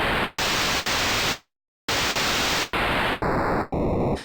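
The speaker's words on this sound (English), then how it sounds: "You got like an 8-bit white noise here." An 8-bit white noise patch on the Massive X synthesizer plays as loud, harsh hissing bursts. They are cut by one silent gap, and the last bursts turn into buzzy, stepped, bitcrushed tones.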